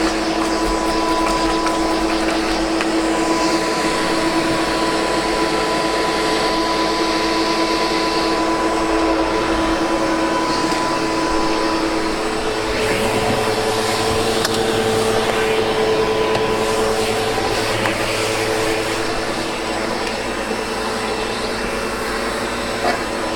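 A SEBO Automatic X7 Boost ePower upright vacuum cleaner runs steadily through the whole stretch, with a constant motor whine and airflow roar that shifts in tone partway through as the machine is moved, close and loud.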